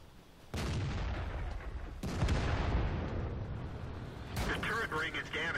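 Three sharp, heavy booms of artillery fire strike in World of Tanks, each a sudden loud blast trailing into rumble, with a voice speaking between them.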